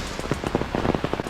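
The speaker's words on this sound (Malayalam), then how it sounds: "ഇപ്പോൾ മഴയും വെയിലുമാണല്ലോ, കുറുക്കൻ്റെ കല്യാണമാണല്ലോ" Rain falling in sunshine along a rocky hillside trail near a waterfall on the Wagamon route, a close, steady patter of drops with irregular louder taps, no voices.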